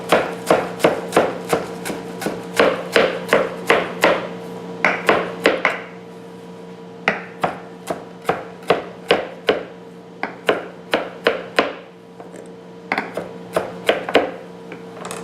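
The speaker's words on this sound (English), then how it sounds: "You take about 20 large leaves of basil, fresh basil, and you chop them up" A knife chops about twenty large fresh basil leaves on a cutting board for tomato basil soup, giving a steady run of sharp, close taps in quick bursts with short pauses between them.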